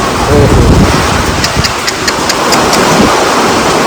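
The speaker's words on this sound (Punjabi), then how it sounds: "ਤੁਸੀਂ ਦੇਖ ਸਕਦੇ ਆ ਮੀਂਹ ਕਿਵੇਂ ਪੈ ਰਿਹਾ" Dense, steady hiss of heavy rain pouring down during a windstorm, with a few faint knocks and rattles mixed in.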